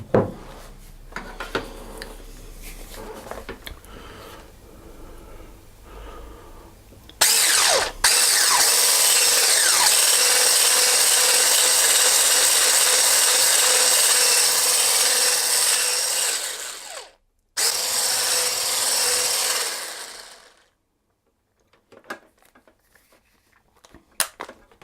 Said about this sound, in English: And then I'm going to whisk that in.